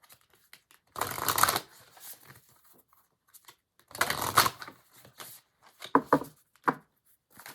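A deck of tarot cards is shuffled in two loud riffling bursts, then several sharper taps and flicks of the cards, close by with no talking.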